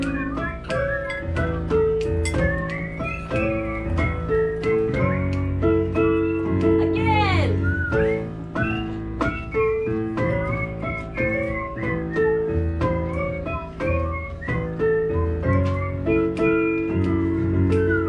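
An audience whistles along to a live performance together, melodic and sustained, with a few voices and a rising whistle sweep in the middle.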